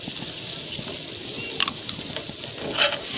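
Red chili powder and salt frying in a hot pan, a close, bright sizzle with scattered crackles and soft stirring scrapes over a few seconds, no talk.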